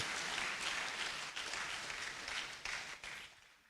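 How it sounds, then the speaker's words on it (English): An audience applauds old master artists at an Asantehene art awards ceremony, with steady, dense clapping that holds for several seconds and then thins and fades toward the end. "just use the God-created instrument in your hand and let's applaud them as they really deserve"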